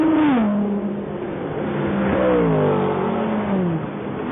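A Mercedes sports car at the 1999 Le Mans 24 Hours, its engine note falling and then shifting in pitch as it brakes for the final right-hander, heard as a steady, moderately close broadcast drone.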